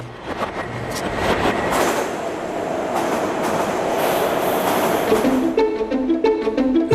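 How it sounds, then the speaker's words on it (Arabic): A Kyiv metro train pulls out of Dnipro station, its steady rumble and rail noise filling the platform before faint squeals and tonal whines rise as it moves off. "يرجى الانتباه، الأبواب توصد الآن، المحطة التالية دنيبرو"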